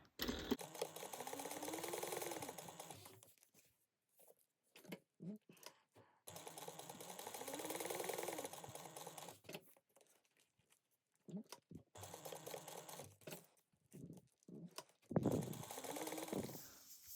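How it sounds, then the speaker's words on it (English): Sewing machine stitching down both sides of a bag strap at 1/8 inch, in quiet bursts of rapid mechanical whirring separated by pauses and soft handling sounds. "you're just going to sew down both sides at 1/8 inch"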